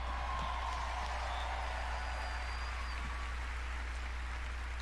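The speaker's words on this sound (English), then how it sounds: "Another round of applause, please, for Marty Hugo and all of our presenters tonight." Sustained audience applause at a live video game press conference, a dense steady wash of clapping from a large crowd held at an even level throughout with no talk over it.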